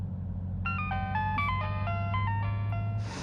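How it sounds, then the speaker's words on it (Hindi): A mobile phone ringtone plays a bright, repeating electronic melody of quick stepped notes, moderately loud over a low steady hum, lasting a few seconds before it cuts off. "तुम्हारा फोन बज रहा है, उठा लो फोन।"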